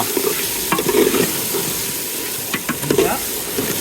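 Prawn korma cooking in a pot, with a steady close sizzle and bubbling under intermittent scrapes and clinks of a stirring spoon against the pot throughout.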